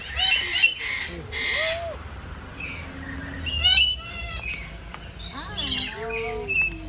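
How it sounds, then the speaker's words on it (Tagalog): Crown pigeons and other birds at a large safari and zoo park in the Philippines give a mix of squawks, chirps and sharp calls, some close and some farther off, over a constant background murmur. "It's the crown pigeon."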